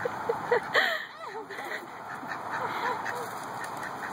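A duck at a zoo gives several short, close quacks between bursts of coaxing talk from a person nearby.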